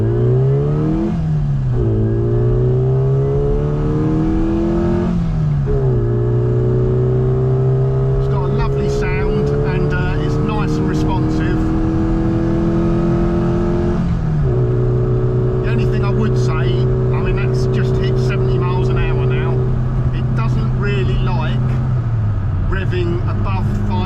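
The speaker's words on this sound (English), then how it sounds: "Let's just firstly see how it goes through the gears." Classic Mini Cooper S Sport 5 accelerating through the gears from inside the car: loud engine drone rising in pitch, dropping at each of several gear changes, then climbing again, with a voice talking over it.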